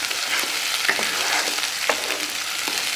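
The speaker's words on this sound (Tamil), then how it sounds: "பச்சை வடை போகிற வரைக்கும் நல்லா வதக்கணும்." Loud, steady sizzling of onion masala frying in oil in a hot pan for eggplant curry, with occasional scraping stirs of a spatula cutting through the crackle.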